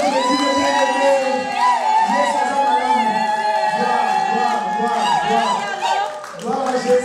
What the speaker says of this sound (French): Nous acclamons Jésus le bien-aimé.